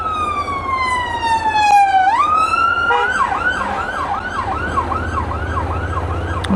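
A police car siren sweeps down and then settles into a rapid wailing yelp as the vehicle passes nearby on a road on the Isle of Man, loud and alone with steady traffic rumble beneath.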